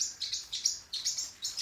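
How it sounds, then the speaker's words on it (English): A small pet bird chirps and hollers in a string of bright, repeated high calls, close and fairly quiet, with short bursts coming in quick succession and no talking. "I apologize for the little hollering bird."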